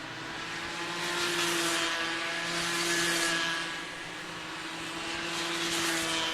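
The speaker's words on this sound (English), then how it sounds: "not too shabby for a little 60cc engine" Small 60cc Bambino karts racing at a kart championship, a buzzing high-revving engine drone that swells louder as karts pass near and fades as they move away, steady and continuous with no talking.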